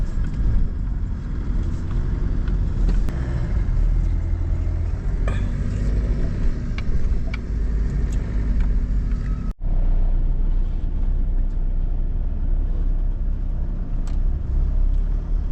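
Heavy road traffic in a jam, a steady loud low rumble of engines and vehicles close by throughout, with a brief dropout midway and no talk.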